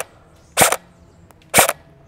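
Two sharp airsoft gun shots crack about a second apart, each a short loud snap against a quiet background.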